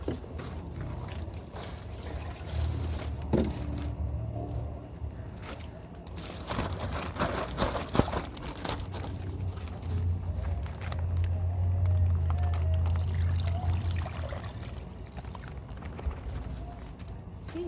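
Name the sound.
water being poured into a container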